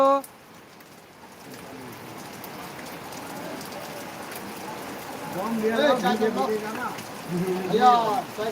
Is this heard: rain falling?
yes